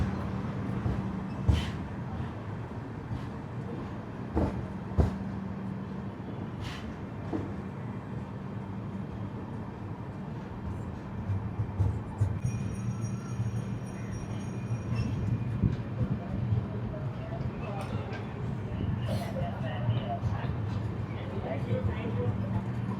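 The Seshadri Express with new LHB coaches rumbles steadily from inside the carriage, with low rolling noise and occasional clanks and rattles under intermittent talk.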